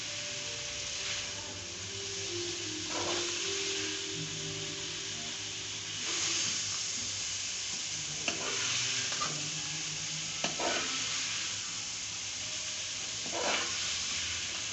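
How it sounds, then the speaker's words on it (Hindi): Crispy fried okra (bhindi) being gently tossed and mixed by hand, giving soft rustling stirs with a steady light sizzle and hiss throughout, plus a few brief clinks, with no talking. "और बहुत ही नरम हाथों से इसको मिक्स करेंगे।"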